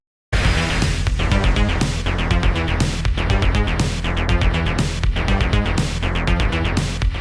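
A warm, plucky MARS tube synthesizer riff plays over a steady, driving drum beat, loud and continuous with no talking.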